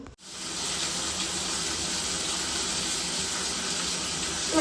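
Fish being washed under a running kitchen tap, a continuous close rush of water that starts abruptly and keeps splashing steadily throughout.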